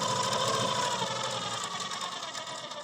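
A sewing machine runs steadily, stitching a strip of fabric on a kurti, a loud continuous mechanical whir with rapid rhythmic ticking that eases slightly toward the end, close by with no talk.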